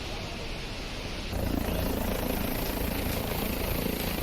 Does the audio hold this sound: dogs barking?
no